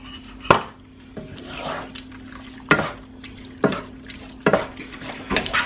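Chili mac ingredients stirred in a pot, several loud spoon scrapes and knocks against the metal at uneven intervals, with a soft wet shuffle between them and a faint steady hum underneath.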